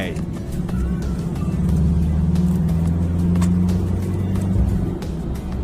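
A car, a Mazda BT-50 Pro pickup, drives along the road, its engine giving a steady low drone that swells and eases, heard from inside the cab with someone talking over it.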